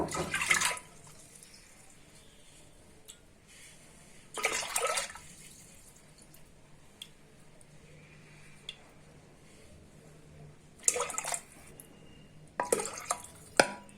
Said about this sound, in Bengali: প্রায় 3 কাপ পানি দিলাম আমি ডালে।